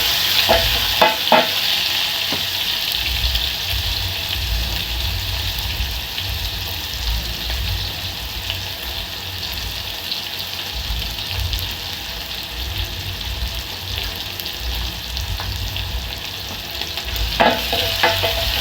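Onions frying for a mutton stew give a steady close sizzle that runs unbroken throughout, with a few sharp clinks of a stirring utensil near the start and again near the end.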